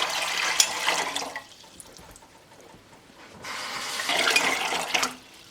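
Water gushes into a pot in two separate pours for canning red beets, with a quiet gap between them, close and fairly loud.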